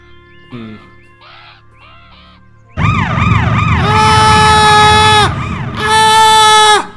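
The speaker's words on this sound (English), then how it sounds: "My alerts are so loud." Loud, shrill alert tones in the video game Beyond Eyes, a few faint chirps followed by a sustained wailing, sweeping siren-like alarm that pauses briefly and then returns.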